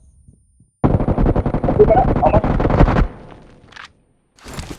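Rapid automatic gunfire from a first-person shooter video game rattles in a dense two-second burst, followed by fainter scattered shots, with a player speaking briefly.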